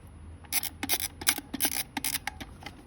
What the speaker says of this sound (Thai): เวลาขึ้นฟิล์มก็คือไข ลานตรงนี้เลยค่ะ